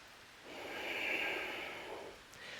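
Slow, audible breathing during a vinyasa yoga pose, a long soft airy inhale swelling and fading over a couple of seconds, close and quiet with no talking.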